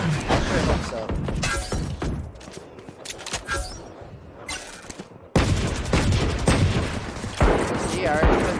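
Pistol fire in a Valorant match, sharp scattered shots and clattering impacts rising and falling through the round, with a commentator talking over the action.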